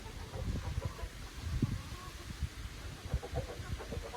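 Chickens kept in a fixed, stationary pen cluck and murmur close by in uneven, scattered bursts over a low outdoor background, with no clear talk.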